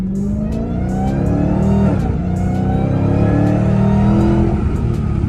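A Dodge Charger Redeye with a stock intake revs hard and loud, its deep engine roar rising and falling in steady pulses close by, with no talking over it.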